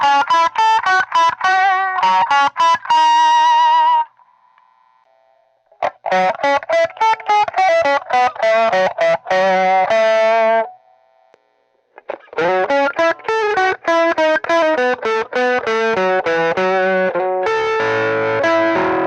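Guitar played through an Aclam Go Rocky Go pedal with its EQ knobs adjusted, giving strange, effected tones: bursts of clipped, gritty notes and chords separated by brief pauses and softer sustained notes, close and loud with no voices.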